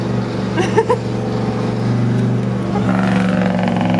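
A boosted LS-swapped Chevy C10 truck with a slipping clutch, a loud droning engine note heard from close by that swells in revs, with a brief faint voice early on.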